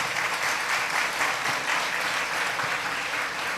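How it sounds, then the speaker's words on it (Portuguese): A Catholic congregation at a preaching event applauds the word of God, a steady, dense wash of many hands clapping together at moderate volume throughout. "Vamos aplaudir a palavra de Deus"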